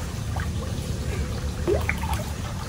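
Rainwater running off mud into a murky river, heard as a soft continuous trickle and pour of water up close with a few small splashy drips, no talking.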